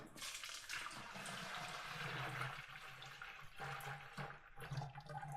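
Liquid poured into a mead fermenter: a close, steady splashing gush of liquid, continuous for several seconds with slight surges and bubbling.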